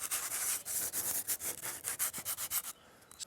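A surfboard sanded by hand around a fin repair in a backyard workshop: quick rhythmic back-and-forth rasping strokes, close and steady, stopping just before the end.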